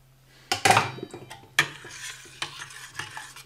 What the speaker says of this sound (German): Nochmal unterrühren. Und eure Kürbis-Mango-Soße ist fertig.